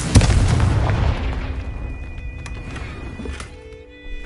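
A Confringo fire spell explodes in Hogwarts Legacy with a loud, deep blast up front that rumbles and fades over a few seconds, leaving quieter game ambience and faint tones behind.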